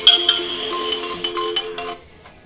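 A phone ringtone plays a bright electronic melody of several tones for about two seconds, close and fairly clear, then stops.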